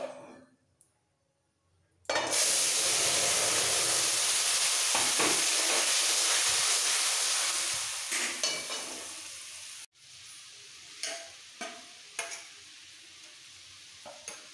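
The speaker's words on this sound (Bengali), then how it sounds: "এবার এর মধ্যে দিয়ে দেবো অল্প করে ডাল সেদ্ধ।" Boiled mung dal poured into a hot spice tempering, which erupts into a loud, broad sizzling hiss after a quiet start, slowly fades, then cuts to gentle stirring taps and softer sizzle, all close up.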